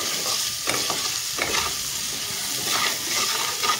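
Potatoes frying in a pan with salt and turmeric, a steady close sizzle broken by occasional scrapes of stirring, with no voices.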